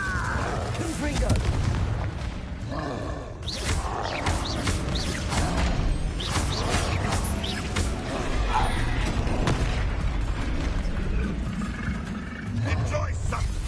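Confringo explosive spells in Hogwarts Legacy combat burst as repeated booming blasts and crackles, loud and near, mixed with battle noise and voices speaking throughout.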